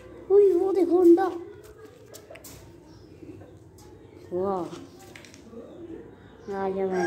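Pet pigeon kept at home cooing in short throaty bursts near the start, middle and end, close and fairly quiet against a near-silent background, with someone speaking softly in between.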